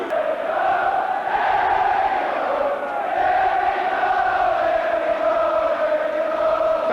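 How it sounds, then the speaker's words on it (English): A football crowd roars and chants for Oxford at a 1984 League Cup quarter-final against Everton. The steady, massed din of voices holds for the whole stretch, swelling slightly in places, with no clear gaps. "Fantastic backing for Oxford from the crowd."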